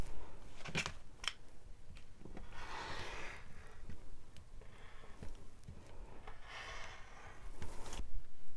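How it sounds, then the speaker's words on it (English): Soft, quiet cutting through fabric to shape a half hexagon, a few faint sharp snicks followed by longer rustling slides as the piece is rotated, close and gentle. "I'm going to cut, cut, cut, and rotate this around."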